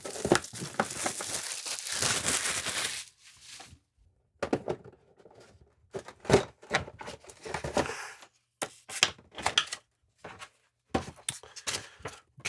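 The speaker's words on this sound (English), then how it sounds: "So first thing, let's cut the plastic off of it." Plastic shrink wrap is cut and torn off an HO scale model rooming house kit box, giving loud crackly crinkling up front, then intermittent rustles, snips and handling thumps close by with pauses between.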